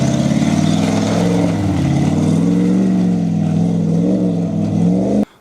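An off-road vehicle's engine roaring steadily as it is floored up a trail, loud and close with a sustained droning revs that cut off abruptly at the end.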